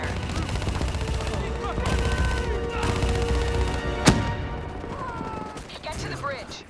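Bursts of automatic gunfire crackle through a firefight in the PC single-player campaign of Call of Duty Black Ops III, with a sharp loud shot near the middle, while voices call out over the battle.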